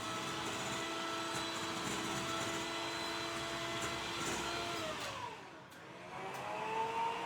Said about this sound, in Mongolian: Нийлүүлээд миксер.